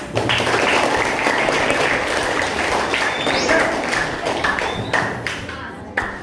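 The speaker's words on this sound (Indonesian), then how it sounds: "tepuk tangan" An audience at a school outreach event claps steadily for a group, dense and close for about six seconds, then thinning out toward the end.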